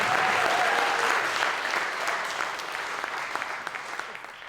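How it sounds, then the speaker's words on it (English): A concert audience applauds, a dense wash of many hands clapping that starts full and slowly thins and fades over a few seconds, with no voices over it. "So give Mr. Ryan Miller a round of applause."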